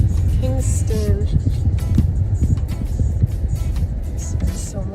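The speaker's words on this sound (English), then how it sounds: "This is traffic time in Kingston." Steady car traffic on a Kingston, Jamaica road under cloudy skies, a continuous close engine rumble and tire roar with passing vehicles and occasional brief clatters throughout.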